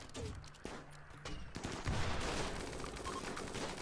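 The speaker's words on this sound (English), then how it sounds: "Don't fire with a grenade launcher directly at us" Rapid gunfire and explosive bursts from a grenade launcher in a Rimworld battle, with dense crackling shots and heavy thumps close by in a loud, continuous fusillade.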